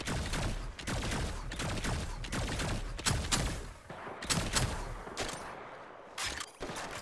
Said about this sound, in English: I got a pulse rifle.